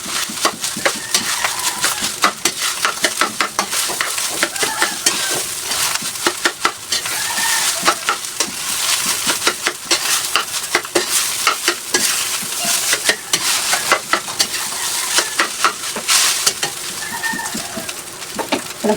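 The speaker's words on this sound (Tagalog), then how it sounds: "So yun, haluin na ulit natin." Food stirred in a full frying pan sizzles continuously, with frequent scraping and clinking strokes of the stirring utensil, loud and close, and faint birdsong in the background; nobody speaks.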